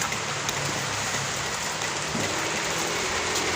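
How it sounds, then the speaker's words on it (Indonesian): Steady, dense rain falling throughout on an abandoned house in Bandung, a continuous hiss of drops on surfaces with no voices. "Hujan juga ya, hujan."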